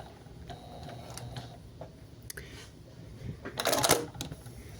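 Home sewing machine backstitching along a curved seam, giving scattered mechanical ticks and clicks that build into a brief, louder whirring burst near the end.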